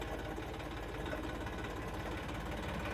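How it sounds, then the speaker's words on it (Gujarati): A tractor engine runs in a steady, close, unbroken mechanical drone with a faint knocking rhythm, holding constant loudness throughout with no voices. "જરાક ટ્રેક્ટર નો રિવર્સ માર જાઉં."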